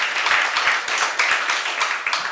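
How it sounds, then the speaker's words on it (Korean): A church congregation claps together in praise to God, a dense steady patter of many hands with repeated sharp bursts, close and fairly loud, with no voices over it. "박수며 하나님께 영광 돌리시기"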